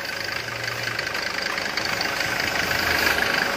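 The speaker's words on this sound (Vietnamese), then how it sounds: "Đó máy nổ rất là êm luôn" A 2003 Ssangyong Korando five-cylinder diesel engine idling steadily, a close, even, smooth rumble that runs without a break.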